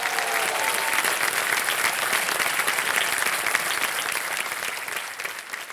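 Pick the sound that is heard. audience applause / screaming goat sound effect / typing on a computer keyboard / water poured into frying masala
audience applause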